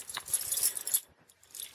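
Metal keys jangle on a carabiner, a bright rattling burst for about a second followed by a few faint clinks after a short pause, close by.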